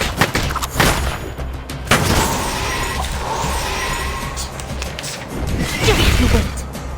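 A gunfire volley crashes out right after a firing command: loud, sharp cracking blasts repeat in clustered bursts over several seconds against a dense, noisy background.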